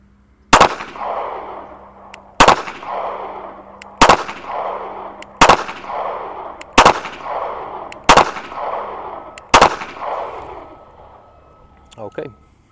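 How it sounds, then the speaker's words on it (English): Seven sharp pistol shots from a Ruger LCP II fired at a target 15 yards away, loud cracks spaced about one and a half seconds apart, each with a short ringing decay outdoors. "here we go with the LCP II at 15 yards"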